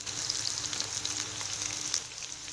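Eggplant pieces sizzle steadily in about two spoonfuls of oil in a pan, a dense, even crackle that holds at a constant level for a couple of seconds.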